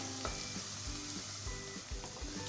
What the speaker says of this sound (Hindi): तो अब 1 से 2 मिनट हम इसको भी फ्राई कर लेंगे कड़ी पत्तों के साथ